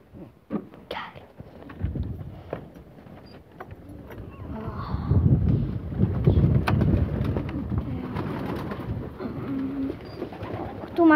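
Pigeons coo softly and repeatedly nearby while being fed, with shuffling and small clatters around them and a low background rumble.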